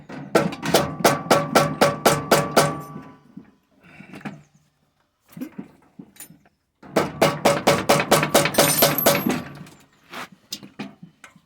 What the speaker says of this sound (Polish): Mamy młotek gumowy i młotkiem gumowym leciutko uderzamy